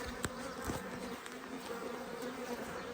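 Honey bees buzz around an opened beehive, a dense, continuous hum with individual insects droning close by, steady and fairly loud.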